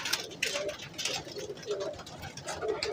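Pigeons kept in a coop give soft repeated coos over a steady background noise, with a few brief higher chirps scattered through the moment.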